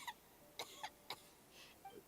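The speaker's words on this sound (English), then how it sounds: "How long have you had that cough, Tonya?" Several short coughs from a character in Genshin Impact, four or five quick dry bursts spaced unevenly over about two seconds, faint and alone with no talking.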